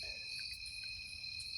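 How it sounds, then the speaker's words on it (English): Crickets chirp outdoors at night in a steady, continuous high-pitched trill, faint and distant-sounding, with no voices. "it's just the crickets and all that shit."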